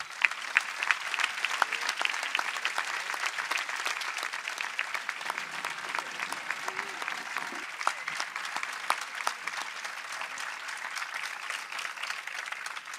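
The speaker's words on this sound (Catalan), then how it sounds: "Fortíssim aplaudiment." Strong, sustained applause from a concert audience at an outdoor festival show in Borriol for the Sant Vicent celebrations, dense and steady clapping filling the space for the whole stretch with a few sharper claps poking out.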